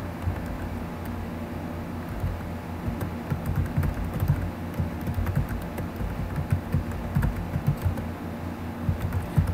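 Typing on a computer keyboard during a Windows keyboarding lesson, a continuous run of quick close key clicks with a few heavier taps, no voice over it.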